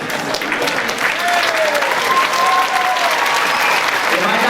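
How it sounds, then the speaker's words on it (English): A graduation audience gives loud, sustained applause for rookie graduates. Clapping and crowd noise stay dense and even, with faint cheers and voices mixed in. "I would like these new professionals to step forward so we can applaud your dedication to these fine young men and women"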